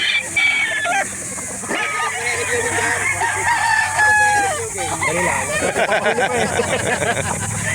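Red quill gamefowl roosters at a chicken market in Calauan, Laguna crow and cluck close by in overlapping calls, and people talk in the background.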